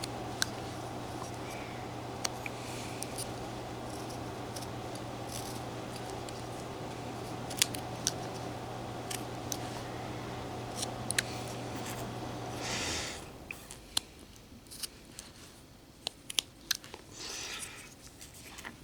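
Blade cutting while carving a jail scene: small crisp clicks and snips scattered irregularly and fairly close, over a steady low hum that drops away partway through, leaving the cuts sounding quieter and drier.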